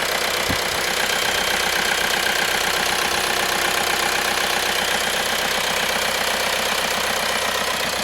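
A 2011 VW Caddy 1.6 common-rail diesel engine, repaired after a cylinder 3 misfire, runs smoothly at idle with a steady, even, close drone and a faint rhythmic knock throughout, with no voices.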